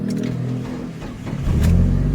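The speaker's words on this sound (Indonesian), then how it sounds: "Kita cobain mesinnya teman-teman ya." A 2000 Mitsubishi Chariot Grandis engine idles roughly, then revs up louder about halfway through, a close, deep mid-pitched roar.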